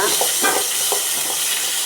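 Chopped onions sizzle steadily in a hot pan while a spoon scrapes and stirs them in short, repeated strokes, close and fairly loud, cooking for a South Indian vendakkai pachadi.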